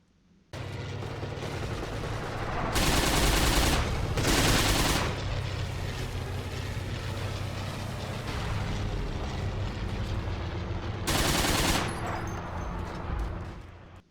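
Thompson submachine gun firing in the video game Forgotten Hope 2, several sharp automatic bursts over a continuous background of distant battle noise and rumble.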